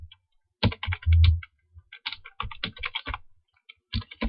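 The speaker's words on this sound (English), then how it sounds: "So here in the browser, I'm just going to type the name of my website." Typing on a computer keyboard to enter a website address in a browser: bursts of quick, close keystroke clicks with short pauses between, alone without speech.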